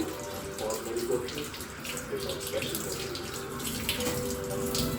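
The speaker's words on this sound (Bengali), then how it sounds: "মাছ যে নিয়ে এসছি সেটাই এখন ধুয়ে নিচ্ছি" Medium-sized fish pieces rinsed under a running kitchen tap, a steady close gush of water splashing over them in the sink, continuous and even.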